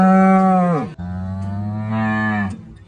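A blind cow on a farm gives two long, loud moos close by, the first falling off in pitch before a short break, the second holding steady.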